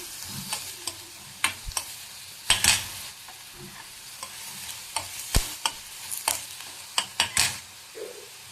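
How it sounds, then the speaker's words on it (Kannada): Ghee tempering being stirred in a frying pan for a flattened-rice dish until it browns, with scraping strokes and clinks against the pan at an irregular pace over a steady low sizzle, close and moderately loud, with no talking. "ಇದನ್ನು ಕೈ ಆಡ್ಸೋಣ ಒಂಬಣ್ಣ ಬರೋವರೆಗೂ."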